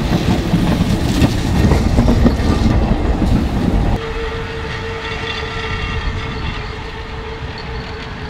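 Historic tram on a Three Kings' Day heritage ride between Trenčianska Teplá and Trenčianske Teplice, rumbling loudly on the rails with clattering wheels, then settling into a steadier, quieter running hum.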